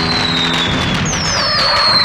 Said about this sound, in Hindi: आज न दिवाली है न दशहरा, फिर भी पटाखे चला रहे हैं, वो भी बीच सड़क पर।